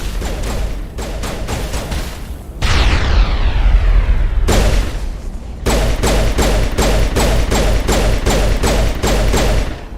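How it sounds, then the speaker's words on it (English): Mass Effect Legendary Edition combat: loud rapid gunfire bursts, a big grenade-style blast with a long ringing decay, then more sustained firing. "That would be a good grenade spot."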